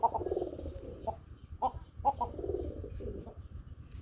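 A pair of Rajgolla pigeons coos repeatedly at close range: soft, low, throaty calls in short bursts, with no talking.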